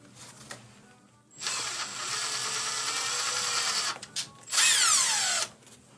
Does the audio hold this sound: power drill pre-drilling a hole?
yes